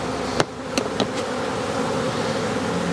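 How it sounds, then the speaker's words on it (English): A dense, steady buzz of many honey bees close up as a colony is shaken down into a container corner, with a few sharp knocks near the start. "I'll shake all the bees down in the corner there."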